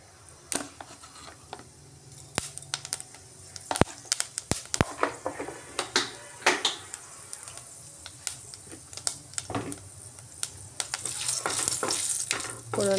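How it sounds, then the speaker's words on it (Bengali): Panch phoron five-spice seeds frying in oil for a prawn and sweet pumpkin curry, a close crackling sizzle broken by repeated sharp spoon scrapes and stirs, no speech. "ফোড়নটা ফ্রাই হয়ে গেছে।"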